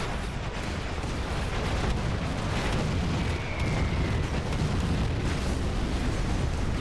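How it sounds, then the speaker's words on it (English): Nighthawk jets' cluster bomb blasts in Command and Conquer: Generals, a dense continuous rumble of overlapping explosions and crackling debris, loud and sustained throughout without a break. "Cluster bomb damage."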